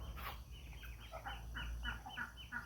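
Backyard hens give a quick run of soft, rhythmic clucks close by, repeating steadily over a low ambient hum with no voices.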